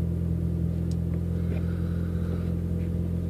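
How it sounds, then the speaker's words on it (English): Inside a moving Honda Civic, a steady low engine drone and road rumble hold at an even level throughout, with no voices heard. "We're just driving around in a fucking Honda Civic."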